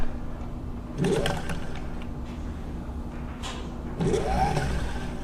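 The bobbin winder on a Singer 15-91 sewing machine turns with a close, soft mechanical whir. Two rising spin-up sweeps come about three seconds apart over a low steady hum.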